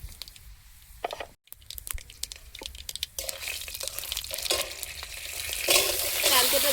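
Dry red chillies, fenugreek and whole mustard seeds hit hot oil for a pickle tempering. They give crackling pops and a sizzle that builds and grows denser and louder toward the end, with a brief silent gap early on.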